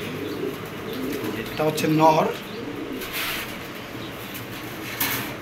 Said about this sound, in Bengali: দেখেন এক পেয়ার দামাসিন কবুতর